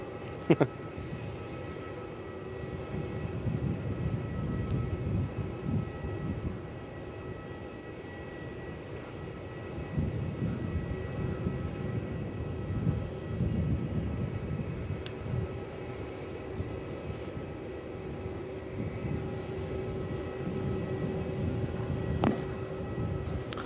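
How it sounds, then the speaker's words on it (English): A Jetstar airliner taxis at Melbourne Airport, its engines giving a steady low rumble and whine that holds at moderate distance for the whole stretch, with no clear voices over it. "So that Jetstar is going to take taxiways to the left."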